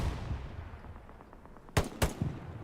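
Gunfire in Hell Let Loose, a World War II shooter, during an 18v18 tournament final: a low rumbling battlefield bed is broken by two sharp, loud shots about a quarter second apart, followed by fainter distant reports.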